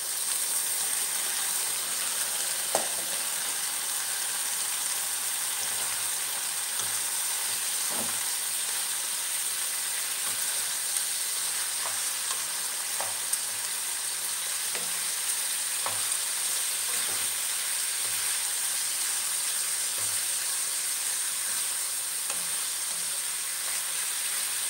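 Pork for kaldereta sizzles and fries in a pan with a steady, bright hiss and occasional faint clicks and pops, heard alone and close throughout.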